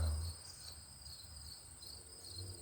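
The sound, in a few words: crickets chirping at night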